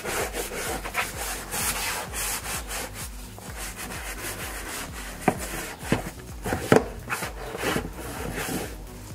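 A soft brush scrubs a leather car door panel in steady back-and-forth strokes, a close, continuous rubbing and swishing with occasional sharper scuffs, and no voices.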